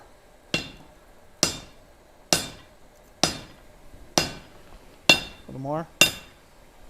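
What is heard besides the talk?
hammering hot steel on an anvil at a forge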